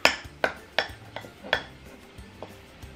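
Crunchy slime mixture from a kit being stirred, with a series of about eight sharp clicky scrapes and taps against a container at an irregular rhythm, close and fairly quiet, with no talking.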